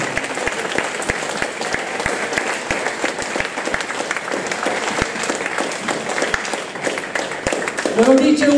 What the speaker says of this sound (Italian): Facciamo un applauso al Signore.